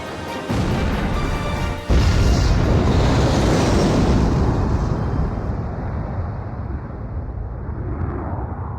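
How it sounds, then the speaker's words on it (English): Cruise missile strike on a mass driver in the video game Ace Combat 5, a sudden heavy crash and roaring blast that rumbles loudly for several seconds before slowly fading, with no talk. "Mass driver hit by cruise missile."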